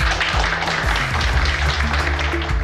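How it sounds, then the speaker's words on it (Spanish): Guests applaud at a wedding ceremony just after the couple is pronounced married, a dense, steady wash of clapping from a crowd close by with a low murmur of voices mixed in. "Un aplauso."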